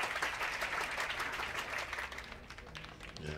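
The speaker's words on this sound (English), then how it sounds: "Round of applause, everyone." A crowd applauds in the mirror-universe murder mystery game Still Joking, dense steady clapping for a few seconds that slowly thins out.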